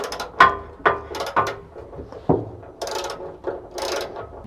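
A hand ratchet loosens bolts during an oil drain, giving several close, crisp bursts of rapid clicking separated by short pauses, with no talking.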